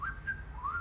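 A short, clear whistled melody from a cartoon character, with rising and falling pitch, two phrases separated by a brief pause, over faint low background hum.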